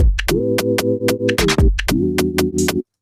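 A synth tone pulses with a tremolo effect in Ableton Live 12.3, the volume chopping on and off in regular bursts that quicken, with a pitch drop midway before the sound stops abruptly.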